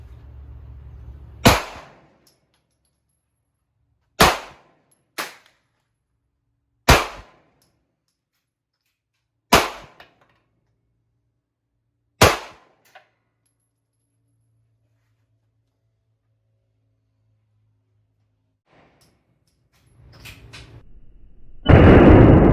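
A Glock 19 pistol in a Micro Roni conversion kit fires at a 25-metre range: six sharp, loud cracks spaced a few seconds apart, each ending quickly. Near-silence follows, then a brief rustle and handling noise at the end.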